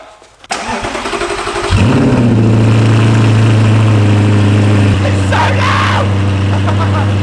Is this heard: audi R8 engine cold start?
yes